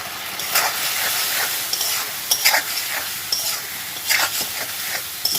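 Cumin powder and chili powder fry in a pan with a little water, producing a continuous hissing sizzle broken by repeated scraping stirs, close and fairly loud, with no talking.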